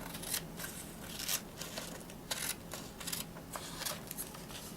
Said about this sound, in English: So you're just gonna cut along the line that you just made.